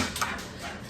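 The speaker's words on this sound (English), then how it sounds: "that's my dog you hear running through the house" A dog runs through a house, heard as faint, quick, light patters and scuffles at close range over a low steady background.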